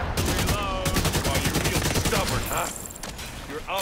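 An AK rifle fires long, continuous automatic bursts during a firefight in the shooter game The Division 2, loud and dense, with mechanical clatter and other game effects layered over the rapid shots.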